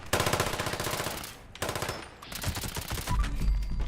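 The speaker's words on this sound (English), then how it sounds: "that's an insane fire rate on whatever they're using" Rapid automatic gunfire from enemies in Fallout 76, loud dense bursts of fast-firing shots with short breaks between volleys, crowded together and continuous.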